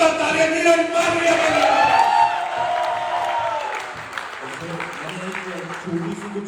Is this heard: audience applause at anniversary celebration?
yes